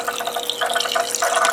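Water runs from a tap to fill a container at a study spot, making a steady hissing gurgle that is close and fairly loud with no talk.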